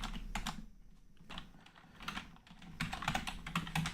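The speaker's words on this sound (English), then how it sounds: "I'm just gonna type a printf statement." Someone types a printf statement on a computer keyboard, with clusters of close, rapid key taps and short pauses between bursts, soft and without speech.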